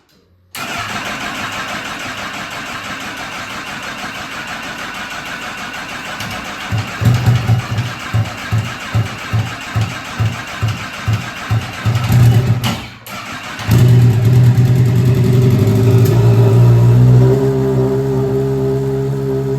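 A turbocharged Honda CBR1000 motorcycle engine swapped into a Mazda Miata cranks with rapid rhythmic pulses, then catches and fires up into a loud, steady idle, close by with no talk.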